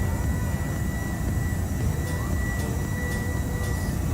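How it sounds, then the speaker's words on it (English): Boeing 747-400 GE jet engines hum and whistle in a flight simulator, a steady loud drone with a faint high tone throughout and no talking. "Love the sound of the engines though. That GE whistle."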